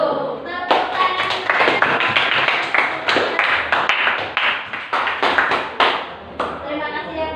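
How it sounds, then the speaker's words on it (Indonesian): A small audience claps after a group presentation, a burst of applause that starts abruptly, with some voices mixed in. "Tepuk tangan."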